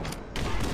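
Rapid automatic gunfire from Halo CE's Library level, a dense, loud burst of shots running almost the whole moment, briefly thinning before resuming at full force.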